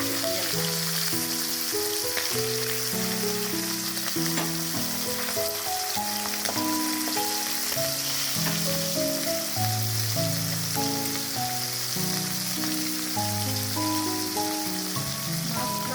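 Stinging catfish frying in oil, a steady, dense sizzle and crackle that runs the whole time beneath continuous background music.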